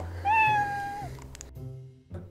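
A house cat lets out one loud, drawn-out meow up close, followed by a few shorter, fainter cries over some background household noise.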